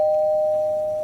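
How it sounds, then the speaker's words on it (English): A single sustained electronic doorbell tone sounds at a house door, clear and steady, fading slowly over about a second with no talk. "You have to ring the doorbell to your own house?"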